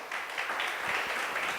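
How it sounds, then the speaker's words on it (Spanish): A church congregation applauding together, a steady wash of clapping hands that fills the short moment without any talk. "Denle un aplauso al Señor, mi hermano"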